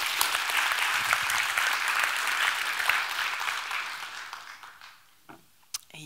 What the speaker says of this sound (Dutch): Graag een hartelijk applaus.